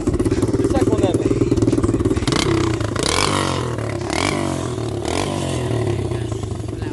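A warm Honda CRZ 125cc pit bike engine fires up and revs with a rough, rising roar, followed by a steady idle with some clatter, heard up close.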